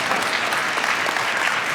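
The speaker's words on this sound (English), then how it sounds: "It's a small clap." A small audience at an Earth Day celebration claps in a brief, dense burst of applause, steady and fairly close throughout.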